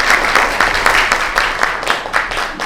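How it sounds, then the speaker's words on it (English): Audience applause after a Kathak dance debut performance, loud sustained clapping from a crowd heard close, with even rhythmic surges over nearly three seconds. "So I think a big round of applause for you and the effort"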